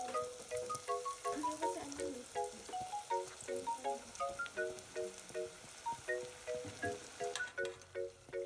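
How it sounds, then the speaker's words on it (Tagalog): Turon, banana spring rolls, fry in hot oil with a faint steady sizzle and crackle, overlaid by a close, rhythmic series of bright tinkling clicks throughout. "So tara, simulan na natin magprito."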